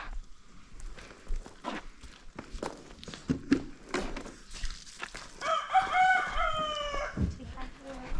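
Chickens cluck and a rooster crows nearby, with footsteps and rustling moving around the birds; a louder burst of crowing rises near the end.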